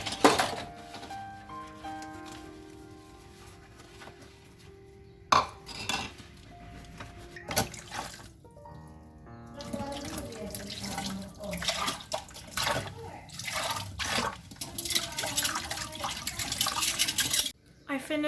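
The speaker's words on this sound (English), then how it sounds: "I will now be doing the dishes by only trying to use about 8" Dishes clink and clatter in a sink while water runs and splashes intermittently, with brief bursts of tap flow and rattling cutlery.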